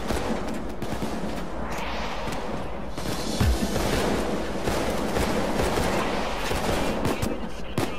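Gunfire in the Payday 2 video game, including a starter shotgun, heard as dense, rapid shots and bursts in a continuous, loud barrage with chaotic background noise.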